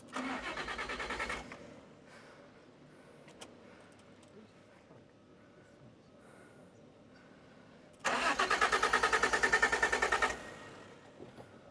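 A car engine, an Alfa Romeo GTV or Fiat Coupe with a flat battery, cranks twice with a rapid rhythmic whirring, once briefly and again after a pause, without catching; faint sounds fill the gap between.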